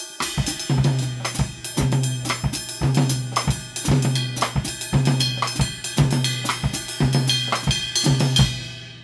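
A drum kit plays a straight Afro-Cuban groove with the left foot keeping clave, crisp cymbal and tom strokes in a tight repeating pattern, loud and close with no talking.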